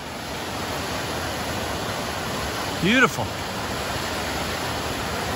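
A waterfall roars as a constant broadband rush of water heard from a hiking trail, with one short spoken word and a brief bird-like call briefly rising above it partway through.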